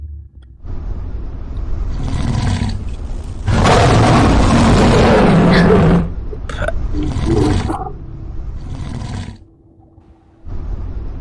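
Several deep, rumbling lion roars from a video game in bursts, one long and loud in the middle, with brief pauses between.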